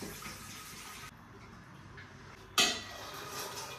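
Water is poured for cooking in a home kitchen, a faint, steady rush followed by a brief clatter of a pot.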